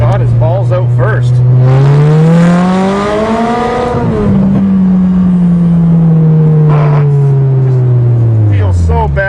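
Toyota GTS engine stuck in first gear revving loud and close, pitch climbing and falling in long sweeps as the throttle is worked, with a voice speaking briefly over it.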